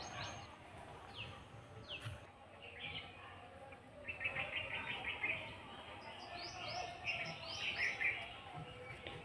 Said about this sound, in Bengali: কত রকমের পাখি ডাকছে।